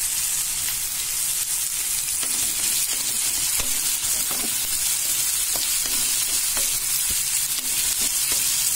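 Onions and curry leaves sauté in hot oil in a pan while prawn thokku is being cooked, giving a loud, continuous sizzle with faint stirring clicks scattered through it, close up and with no talking.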